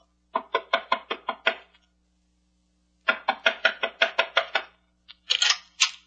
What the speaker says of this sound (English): Knock on the door, Shannon